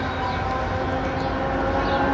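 A steady rumbling train approaching Fullerton Station during Friday night rush hour, with a rising whine and continuous mechanical roar, loud and close throughout.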